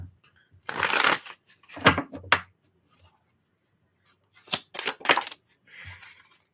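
Tarot cards being shuffled by hand: several short riffling bursts and soft slaps of card stock, close and fairly quiet, with brief silences between.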